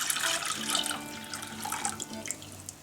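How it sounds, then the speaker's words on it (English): Low-fat milk is poured into melted butter in a pot, giving a steady, soft liquid splashing and trickling sound close by, with no talking. "we're going to pour in our low-fat milk"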